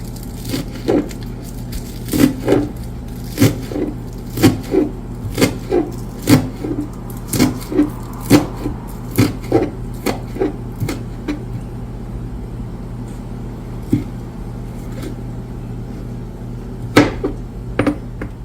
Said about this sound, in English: So I'm going to finish chopping this up and add this with the cabbage and the cucumber.